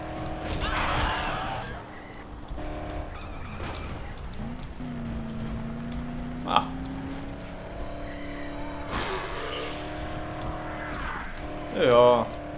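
A car driven in the Dead Island video game, its engine droning steadily with pitch rising and falling, a few thumps and a short burst near the end, while someone talks over it.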